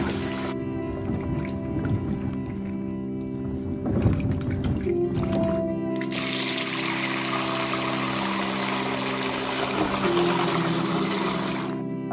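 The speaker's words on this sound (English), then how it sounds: "So the first thing to do is to wash the fruit." Wild rose hips and elderberries are washed in water, with splashing and dripping handled up close, followed by a steady rush of running water from a tap.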